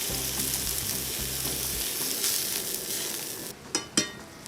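Steak and garlic sizzling in a hot frying pan, a steady, close crackling hiss of fat frying throughout, with a couple of brief louder pops near the end and no talking.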